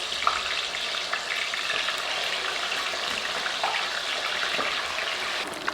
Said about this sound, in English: My oil's reached 350 degrees. We're gonna throw these wings in.